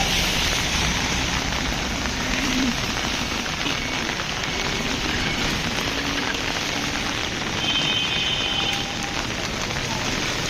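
A steady downpour drums on a Jhenaidah town road at night, a thick roar of rain that stays loud and even throughout, without speech.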